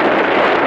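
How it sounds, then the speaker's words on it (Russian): A loud gust of wind roars into the microphone outdoors beside a hill where cars are being tested, a brief, dense, steady rush with no voices over it. "Ой, сейчас ветер."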